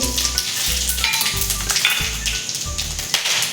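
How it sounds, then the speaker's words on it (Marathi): Cumin seeds and whole spices crackle and sizzle in hot oil, a close, loud steady frying hiss with a pulsing low hum underneath and occasional light scrapes, no voices. "जिरे घालून घेऊयात थोडेसे जिरे ते खडे मसाले"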